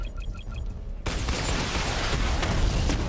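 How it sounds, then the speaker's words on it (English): Missile barrage fired in the video game Batman: Arkham Knight, a sudden dense, loud roaring burst of launches and blasts that kicks in after a quieter electronic interface lead-in and continues steadily. "Missile barrage level 2 ready."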